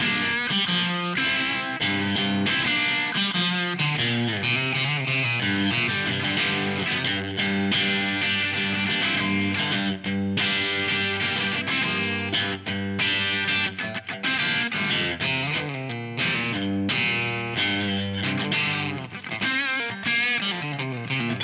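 Electric guitar played through a Bugera 1960 Infinium amp on the bridge pickup at the edge of breakup, with plate reverb: a dense, continuous, mildly crunchy stream of chords and notes, loud and steady throughout with no voices.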